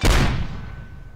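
A single mortar firing in the Project Reality video game, a loud close boom with a long decaying rumble trailing away.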